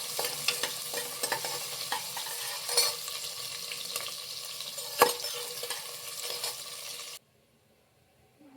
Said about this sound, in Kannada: ಈರುಳ್ಳಿ ಎಲ್ಲ ಸ್ವಲ್ಪ ಗೋಲ್ಡನ್ ಬ್ರೌನ್ ಬರೋವರೆಗೂ ಫ್ರೈ ಮಾಡ್ಕೊಳ್ಳಿ.